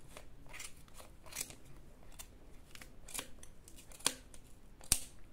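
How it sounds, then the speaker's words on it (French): Scissors snip through the yarn threads of a crocheted shawl in a series of quiet, crisp cuts, irregularly spaced, with two sharper snips near the end. "je prends ma paire de ciseaux et on coupe dedans"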